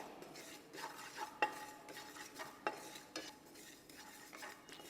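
Sesame seeds dry-roast in a pan with no oil, a faint scraping stir with occasional light clinks of a utensil against the pan, soft and steady.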